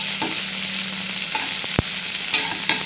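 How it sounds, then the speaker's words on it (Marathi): Onion sautéing in two spoons of oil for Maharashtrian tomato saar, a loud continuous close sizzle with faint stirring scrapes and one sharp knock, with no talking. "दोन चमचे तेल टाकून मी कांदा परतायला घेणार आहे"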